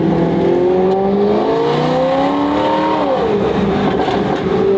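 A $250k Mercedes engine revs with its exhaust valve open so the gas bypasses the muffler, producing a loud, close, rising rasp that climbs steadily, then drops back toward idle.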